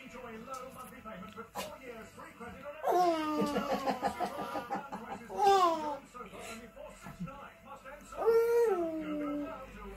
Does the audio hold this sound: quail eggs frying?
no